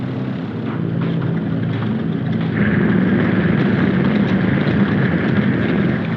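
A propeller airplane's engine drones steadily in flight on a 1951 drama soundtrack, a loud continuous roar with a low rumble that grows slightly stronger partway through.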